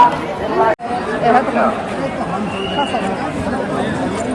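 A dense crowd of devotees chatters at a busy Ram temple on a Tuesday, a continuous close babble of many overlapping voices with no single speaker standing out.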